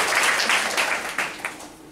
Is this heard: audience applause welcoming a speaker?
yes